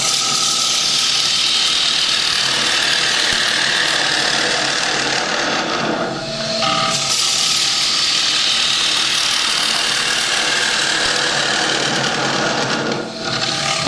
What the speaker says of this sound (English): I think I can speed the lathe up even more.